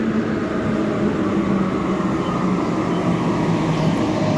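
Steady, loud rumble of a Kolkata Metro train arriving at the platform, with a low hum and faint whine, no pauses, no voices.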